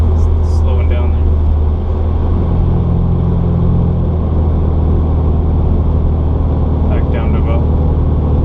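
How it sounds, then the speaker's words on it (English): A car with a CNT exhaust and no silencer cruises in Juneau, Alaska, giving a loud, steady low rumble throughout. Someone talks briefly over the engine drone. "So this is cruising without the silencer."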